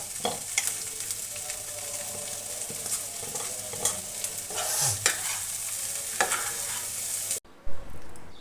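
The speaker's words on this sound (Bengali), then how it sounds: "নেড়ে চেড়ে কষিয়ে নেব" Boiled mashkolai dal stirred and sautéed in a hot pan: a close, continuous sizzle broken by repeated scraping strokes of a spoon. The sound cuts off abruptly near the end, and no one speaks.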